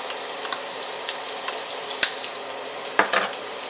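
Crushed garlic fries in a pan with onion, giving a soft, steady sizzle. A spoon stirs it with scattered light scrapes and clicks, and a sharper tap of metal on the pan stands out near the middle.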